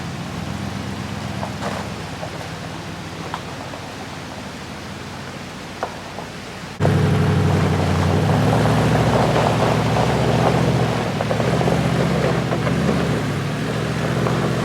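High springtime snowmelt river rushing beneath a stone bridge, a steady wash of water that jumps suddenly louder and closer partway through and stays strong, with no voices.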